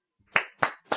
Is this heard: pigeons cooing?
no